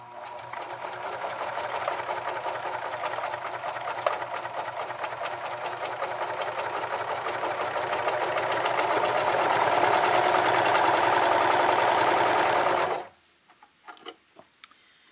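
A serger stitching binding onto a quilt runs at a fast, steady whirring rattle that builds slightly in speed, then stops abruptly near the end, followed by a few light handling clicks.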